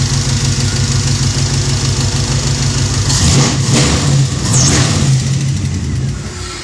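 A 1968 Pontiac with a Holley Sniper fuel-injected engine idles with a deep rumble, then revs sharply twice in loud surges before settling back, heard up close with no talk.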